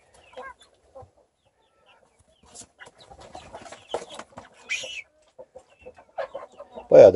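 Chickens in a coop with feeders and float drinkers cluck sporadically, soft short calls scattered through quiet, rising to a louder squawk at the end, no speech.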